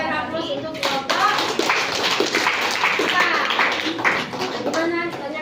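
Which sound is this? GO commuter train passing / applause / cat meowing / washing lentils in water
applause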